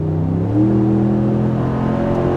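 A 5.7 Hemi V8 Ram 1500 truck with an MBRP 2.5-inch catback exhaust revs up with a deep, rising rumble, then holds a steady throaty drone close by.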